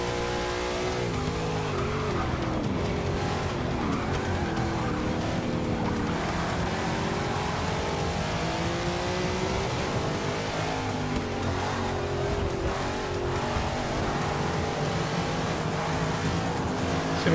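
A race car in the Forza 6 racing game roars steadily through a league race, its engine shifting pitch as it accelerates and brakes, with tire squeal and skidding through the corners, continuous and loud throughout.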